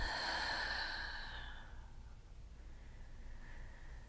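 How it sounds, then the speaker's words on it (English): A deep, slow exhale during a relaxing yoga twist, a breathy rush that fades out over about two seconds, heard close and alone in a quiet room. "Big breath out."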